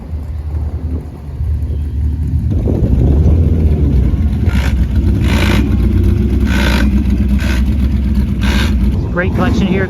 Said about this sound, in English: We do have race cars going out.